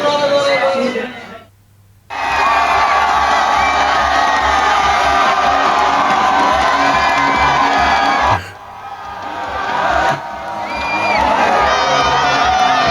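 A large excited crowd in Seoul before a World Cup match roars and cheers loudly and continuously, with whoops and shouts, dipping briefly twice before surging back near and full.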